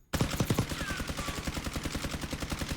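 Sustained automatic assault rifle fire in Call of Duty Warzone, a loud, steady rapid stream of shots after a brief opening burst, continuing evenly without pause for the whole stretch.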